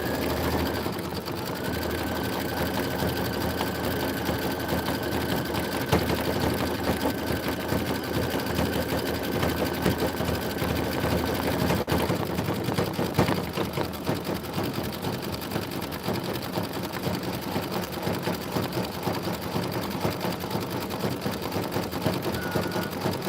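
Sewing machine stitching a Kimberbell quilt tiling design, its needle running as a steady, fast mechanical whir and rattle that continues without a break for over twenty seconds, close and loud.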